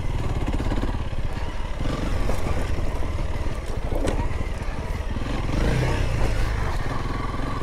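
Honda 300L motorcycle riding over slick rock and sand near Moab, Utah, its engine a loud close continuous drone with uneven throttle and wind rush throughout.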